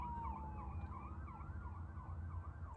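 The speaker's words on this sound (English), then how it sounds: "Those sirens." Emergency vehicle sirens wail continuously in repeating rising-and-falling sweeps, moderately distant, over steady low traffic rumble with no talking.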